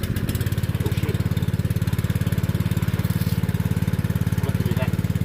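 A small gasoline water pump engine runs on full choke with no throttle, giving a loud, close, rapid steady putter that continues without a break for several seconds.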